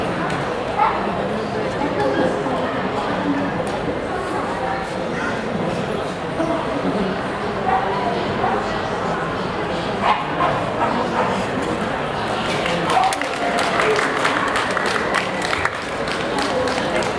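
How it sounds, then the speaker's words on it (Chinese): A Miniature Poodle barks and yips amid a busy indoor pet and aquarium show near the main stage, its calls mixed into a dense wash of crowd chatter and voices throughout. "這隻是 Miniature Poodle"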